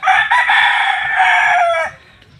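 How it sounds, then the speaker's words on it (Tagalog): A young rooster (stag) crows loudly and close by in a coop, one long strained cock-a-doodle-doo lasting nearly two seconds before falling away to quiet. "Yan yung mga stag natin."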